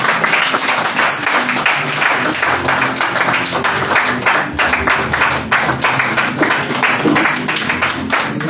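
A church congregation at a prophetic conference applauds for the Lord, loud dense clapping sustained throughout with crowd voices mixed in.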